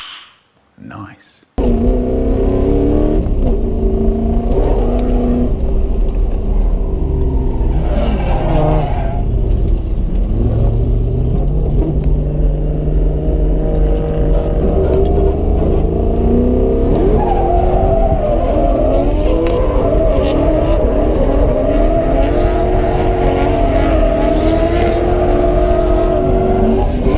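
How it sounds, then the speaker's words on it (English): Drift cars accelerate at a drift day, with engines revving hard and climbing through gears in a loud, continuous roar. Tire noise and shifting pitch run throughout, and a brief quieter moment comes at the very start. "I'm about to drive with my buddy Caleb from DriftSTL"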